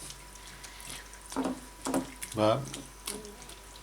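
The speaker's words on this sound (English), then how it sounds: "Start adding some more water." Water poured into a camping cooking pot outdoors in France, arriving in three or four short splashing bursts while someone talks nearby.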